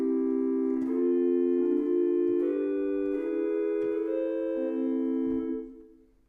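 Pipe organ on the Rohr Flute 8 stop of a two-manual American Classic organ, sustained soft fluted chords shifting slowly, heard alone and close before fading out at the end.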